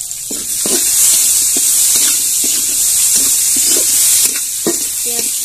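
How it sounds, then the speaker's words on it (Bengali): Chopped onion frying in hot oil with bay leaves, cardamom and cinnamon, giving a loud, steady sizzle close by with soft stirring scrapes throughout. "পেঁয়াজটা একটু লাল লাল করে ভেজে নিব"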